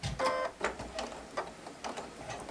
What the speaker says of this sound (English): I'm adding a little bit of tension to the needle and just lining it up and sewing as normal